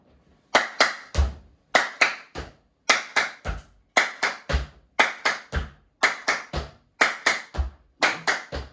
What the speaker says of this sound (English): when we lift our knee, you're going to do a double with your clap